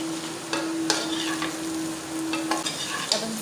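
Potatoes and onions for a potato-onion curry being stirred in a pan, with a steady sizzle and several soft spoon scrapes at irregular intervals, close and moderately loud, no talking.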